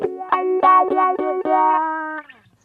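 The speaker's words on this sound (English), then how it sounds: "It's not my personally preferred sort of wah sound, but it does the job just fine." An electric guitar played through a wah pedal gives a run of distorted notes, about six sharp picked attacks with sweeping wah tone and echo, ending on a long sustained note that fades.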